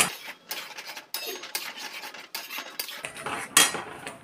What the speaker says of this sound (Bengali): এবার এই মশলাটাকেও এবার আমি ভালো করে কষিয়ে নেব।